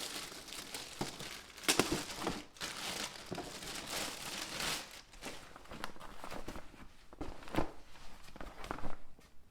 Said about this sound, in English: take them out of the original boxes, take them out of these plastic bags